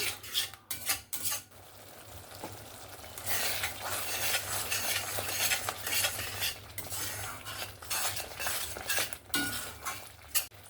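Spoon stirring yogurt into a spice masala for Katla fish rezala, with scraping and clinking against the pot and a low sizzle underneath, steady and close with a few sharp knocks.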